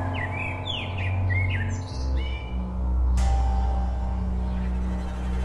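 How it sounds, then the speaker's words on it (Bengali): Wild birds chirp and tweet in quick, bright repeated calls over a low steady background hum in a rural countryside area near dusk, with one sharp higher squawk partway through. "পাখিদের কলতানে মুখরিত অঞ্চল।"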